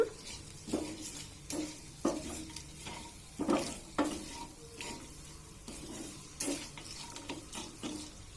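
Cooked rice being stirred with salt in a pot for wood apple pulihora, with repeated scraping and stirring strokes about every half second over a faint sizzle, close and moderately loud, no talking.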